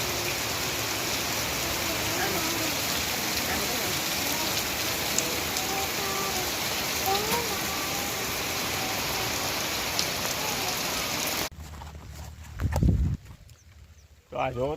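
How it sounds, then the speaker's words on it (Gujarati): Heavy rain pours on a farm's groundnut crop in a dense, constant roar for most of the stretch, then cuts off abruptly, leaving quieter background and brief voices. "આટલો વરસાદ આવી ગયો"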